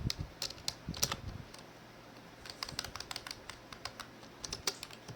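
Someone types code on a computer keyboard, a quiet run of crisp, irregular key clicks in short bursts with a brief pause in the middle.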